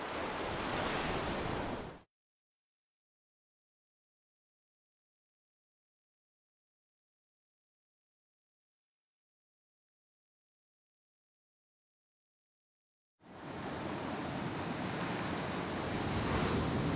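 Ocean surf rolls in beside the Mexico–USA border fence where it runs out into the water, a steady broadband roar with some wind, cut off by a long dead-silent gap before the wash returns.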